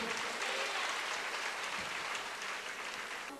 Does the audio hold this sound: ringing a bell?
no